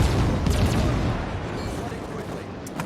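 Warship secondary guns opening fire on small destroyers in World of Warships, heard as a loud, continuous rumble of booms and blasts that holds level throughout.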